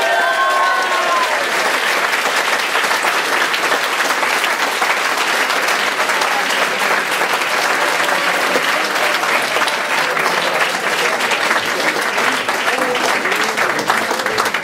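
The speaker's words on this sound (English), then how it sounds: "Bring another round of applause for David." A crowd at a Bettakultcha talk night in Leeds breaks into long, sustained applause after a speaker finishes, loud and dense with many hands clapping, and a voice speaks briefly over the start of it.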